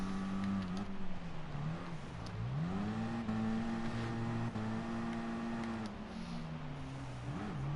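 A video game race car engine drones loudly and continuously, its pitch rising and dipping as it accelerates, shifts and slows, with no voices over it.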